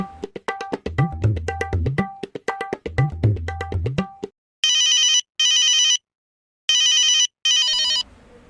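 A telephone rings in repeated bursts, first a lower warbling double-ring pattern, then loud high electronic ring bursts separated by short silences, close and clear.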